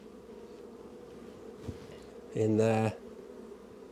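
Honey bees buzz low and steady on an open hive during a spring inspection, with a brief louder, closer buzz as a bee passes near, and a voice speaking briefly.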